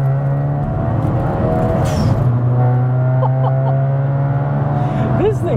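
A 300bhp hybrid-turbo Seat Ibiza FR pulling hard in third gear, its engine droning loudly and steadily with rising tones from inside the car, while occupants talk over it.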